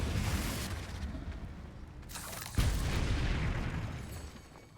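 Confringo fire spell blast in the Hogwarts Legacy video game, a dense roaring explosion with a sharp burst midway, loud and continuous throughout.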